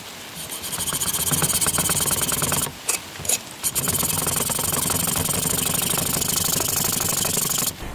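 A hacksaw grinds steadily back and forth through a PS90 rifle barrel, a dense raspy scraping that runs close and loud, pausing briefly midway before resuming.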